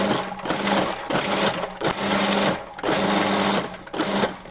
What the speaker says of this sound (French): je vais utiliser la pulsion pour concasser les oignons, mixer les oignons